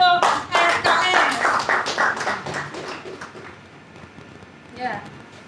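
Audience clapping at a real estate gathering event, a burst of brisk individual claps close by that thins out and fades, with a voice cutting in briefly near the end.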